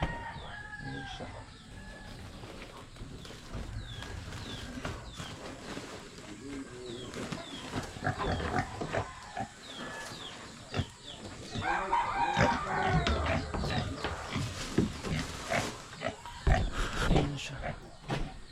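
Farmyard feeding time with chickens clucking and a rooster crowing among pigs and ducks, a busy run of bird calls and animal noise near and far, with people talking over it.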